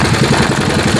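A procession vehicle's engine idles steadily after being restarted amid a crowd in Bacacay, Albay, a loud continuous mid-to-low rumble with a faint rhythmic pulse throughout.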